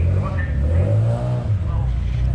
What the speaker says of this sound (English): Fancy a nice little mini Marcos?